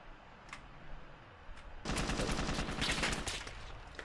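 Gunfire in the Ravenfield video game: a couple of distant single shots, then a sudden loud, sustained burst of rapid automatic fire rattling up close.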